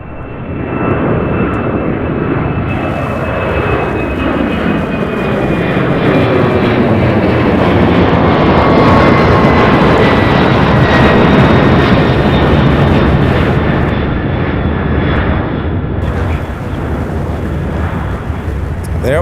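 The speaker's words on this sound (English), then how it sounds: "There we have it, the very first UPS departure here from 35 right." A UPS heavy freighter jet departs runway 35 right, its engines a loud, sustained roar that holds steady for the whole stretch, with faint voices beneath.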